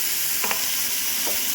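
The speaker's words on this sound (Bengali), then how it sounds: "এবার যে মশলাটা করে দিয়েছি এটা দিয়ে এবার একটু কষাই।" Fried potatoes are stirred with spice paste in a pan, a steady close sizzle with a couple of brief spoon scrapes against the pan and no voices.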